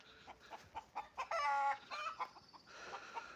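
Hens clucking nearby in a farmyard with pigeons, a quiet run of short irregular clucks with a longer drawn-out call midway, no talk over it.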